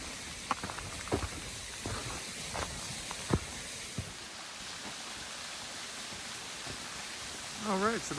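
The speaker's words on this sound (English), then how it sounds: "I hear some running water" A stream runs steadily beside a side trail near Whitaker Point in the Ozarks, a soft continuous rushing wash heard from a distance, with scattered brief knocks and rustles and a short warbling note near the end.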